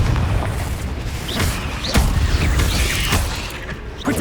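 Confringo spell blasts in the video game Hogwarts Legacy: several booming explosions in quick succession with sharp bursts and crackling debris, loud and punchy against a continuous rumbling game background.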